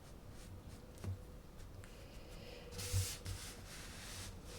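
Inktense pencil strokes on paper make faint, soft scratchy rubbing in a few short passes over a low steady background hum.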